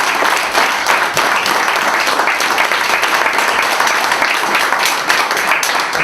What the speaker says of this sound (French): qu'on puisse te transmettre une bonne main d'applaudissement à Denis